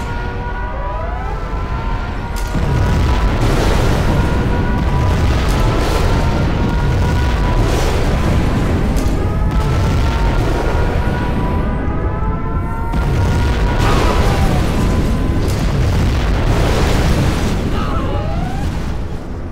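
A nuclear missile strike in the real-time strategy game Command & Conquer Generals Zero Hour detonates as a loud, sustained rumbling blast lasting about twenty seconds, with wavering siren-like tones over it and a second surge of roar midway.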